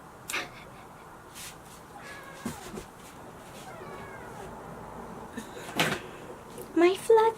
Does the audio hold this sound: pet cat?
yes